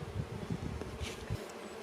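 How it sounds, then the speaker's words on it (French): Honeybees returning to the hive from foraging laden with pollen and honey, a steady close buzzing hum of many wings at a fairly low level. "il y a beaucoup d'abeilles qui sont en train de butiner dehors et qui reviennent à la ruche chargées de pollen et de miel"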